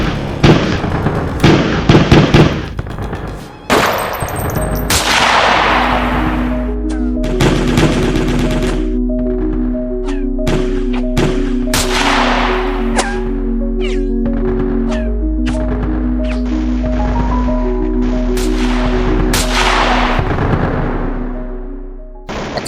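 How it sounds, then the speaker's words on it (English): Heavy gunfire in a dawn firefight in which hundreds of armed men surrounded police commandos: rapid bursts and sharp cracks fire loudly and densely over a sustained rumbling background, some shots close and some more distant. "The firefight began."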